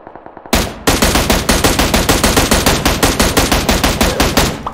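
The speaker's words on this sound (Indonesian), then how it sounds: "Perasaan nembaknya dari bawah. Mana yang nembak?" Rapid automatic gunfire in the PUBG Mobile video game, a sustained burst of sharp, evenly spaced shots, loud and close, with no talk.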